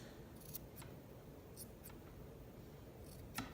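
Small scissors snipping the excess cord off a handmade turquoise and copper mala bracelet, several quiet, crisp clicks spaced irregularly over a faint background hiss.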